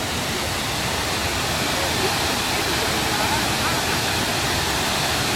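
A waterfall plunging from a high drop roars in a loud, unbroken wash of rushing water that fills the whole scene at close range.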